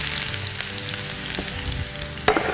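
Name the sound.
onions sizzling in a hot pan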